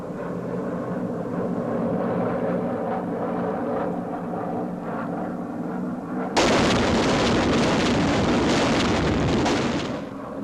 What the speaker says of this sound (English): Another drop of the jellied gasoline bombs.